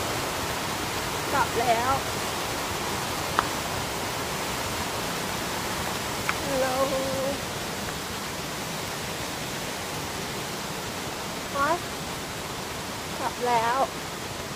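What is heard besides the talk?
waterfall rushing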